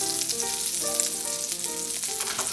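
A parmesan-crusted omelette sizzles steadily in a pan, with a continuous close frying crackle and faint tonal hum underneath, no voices.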